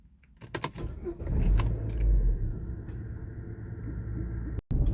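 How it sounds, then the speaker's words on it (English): A 2002 Daewoo Leganza 2.0 CDX automatic sets off for a drive: a few clicks and clunks, then a steady low engine rumble with interior road noise, heard close from inside the cabin. "let's go out for a little spin in my luxurious Leganza"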